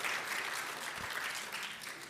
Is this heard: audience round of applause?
yes